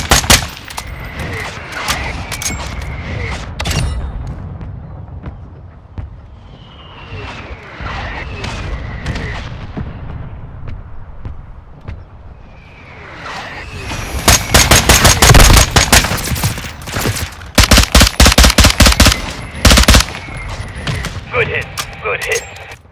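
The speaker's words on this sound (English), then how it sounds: "Mortar strike on the way." Heavy automatic gunfire and explosive mortar impacts from a Call of Duty firefight, dense rapid bursts building to a loud, sustained barrage near the end, with radio-style voices talking between the volleys.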